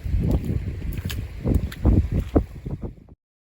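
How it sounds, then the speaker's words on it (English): Gusty wind buffets the microphone on a marshland beach during metal detecting, with rough low-frequency bursts rising and falling for about three seconds before cutting off abruptly. "I tried to keep the audio on this, but the wind was just too bad"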